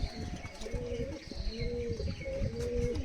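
Close, repeated low cooing from Oman Teddy flying pigeons, several rolling phrases in steady rhythm over a busy background with a faint voice.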